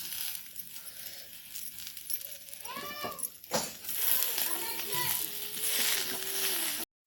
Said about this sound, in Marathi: आता टमाटे टाकलेली मस्त भाजून घेते